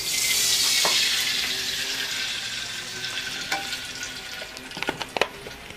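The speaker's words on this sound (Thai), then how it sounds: "ใส่ไปกระทะเลย" A loud, steady sizzle of fish frying in a hot pan, cooked steak-style, fills the clip. A few sharp clinks and spatula scrapes come near the end, and no one talks.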